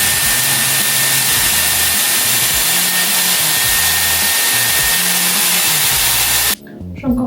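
A hair dryer fitted with a small nozzle blows loudly and steadily at close range while hair is dried section by section, then cuts off abruptly near the end, leaving a brief quieter moment.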